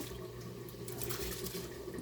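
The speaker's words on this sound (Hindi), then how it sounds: "चावलों के लिए पानी जो है वो बॉईल होना शुरू हो गया" Water heating in a pot for cooking rice gives off a steady, faint bubbling hiss that continues without pause at an even level.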